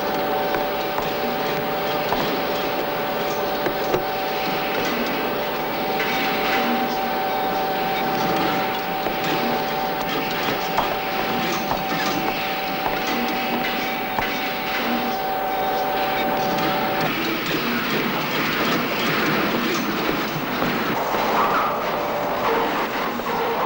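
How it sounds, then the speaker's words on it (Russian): A steam locomotive train runs with a continuous, dense mechanical rumble and hiss, loud and close throughout, a steady tonal hum persisting through much of it. "Это паровоз, мой мальчик."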